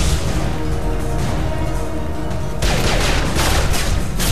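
Sustained gunfire from a cover-shooter firefight in Mass Effect 2, dense overlapping shots and bursts with a sharper, rapid machine-gun-like patter in the second half, loud and continuous, no talk.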